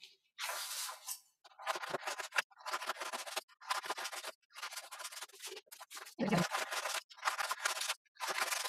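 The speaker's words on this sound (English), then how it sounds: "You need your scissors. And you're just going to cut them apart" Close-up scissors snip through paper in a series of about eight rough, rasping cuts separated by brief pauses.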